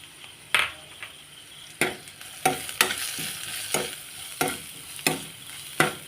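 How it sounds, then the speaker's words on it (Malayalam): Crushed chillies and salt being sautéed in a pan, with a spoon scraping and knocking against the metal in irregular strokes over a soft, steady sizzle, close and alone. "അപ്പോൾ ഇത് ഓവറായിട്ട് വഴറ്റേണ്ട ആവശ്യമില്ല, ജസ്റ്റ് ഒന്ന് വഴറ്റിയെടുത്താൽ മതി"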